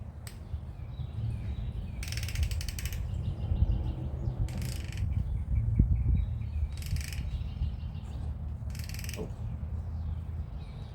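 An improvised puller is tightened onto a stuck pulley on a Speedex model 1630 garden tractor, giving repeated creaks, clicks and short metallic ratcheting bursts at close range over a steady low hum.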